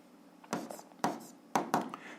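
A pen scratches on paper during an algebra exercise, making four sharp, quiet strokes in an uneven rhythm, close and alone.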